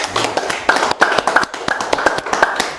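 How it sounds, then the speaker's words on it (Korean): Clapping from a lecture audience welcoming a speaker to the stage, a loose scattering of distinct hand claps close by, irregular and not fully in unison, with fairly sparse claps overall. "박수로 모시겠습니다."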